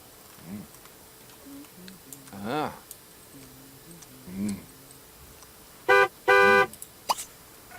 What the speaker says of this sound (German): Wer hupt? Da hupt einer.